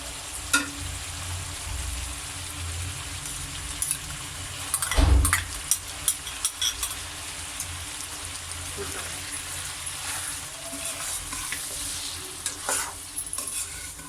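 Yogurt is stirred into a sizzling chicken karahi masala for Makhani chicken karahi, giving steady frying hiss with scraping spoon strokes and one heavier clatter, close up.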